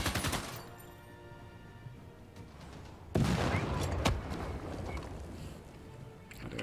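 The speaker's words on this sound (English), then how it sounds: "So we're being fired upon, as you can see." Units exchanging fire in Civilization 6: faint gunfire cracks and a louder burst of shots midway, over a quiet bed of tonal game music.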